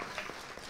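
A dinner audience in Dallas breaks into a short burst of applause, a dense wash of clapping heard from across the room.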